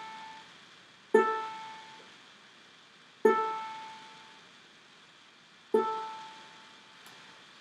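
Three separate plucks of the last string on a ukulele, each a bright single note that rings out and decays slowly, spaced a couple of seconds apart with quiet between them.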